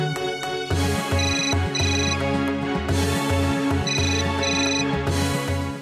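A telephone rings in a Hindi TV drama scene, a loud repeating electronic ring pattern in short bursts over a steady musical background, no talking.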